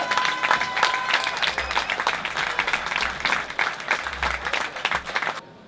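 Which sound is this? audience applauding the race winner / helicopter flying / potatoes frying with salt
audience applauding the race winner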